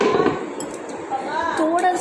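Chopsticks clink a few times against a bowl during a ramen meal, short bright taps heard close by, with a voice talking softly around them.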